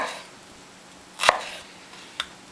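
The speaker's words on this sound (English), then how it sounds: "we're going to go ahead and cut through all of this shallot here" A knife cuts through a shallot on a cutting board, giving two sharp chops about a second apart with a quieter tap in between, close and clear with no talking.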